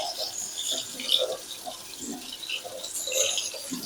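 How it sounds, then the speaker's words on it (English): Tap water runs steadily over a pepper being rinsed at a kitchen sink, a continuous close splashing wash with small fluctuations and no talking. "I'm going to rinse that pepper off"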